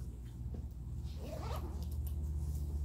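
A zipper pull is handled on a case with white stitching, giving a brief close rasping zip in the middle over a steady low hum, with no one speaking.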